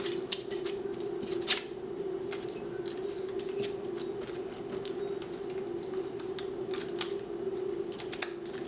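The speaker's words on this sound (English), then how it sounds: "Now I gotta trim this one. Trim the corner off." An aluminum soda can corner being trimmed with scissors, giving a run of quick, crisp snips and clicks over a steady hum of room noise.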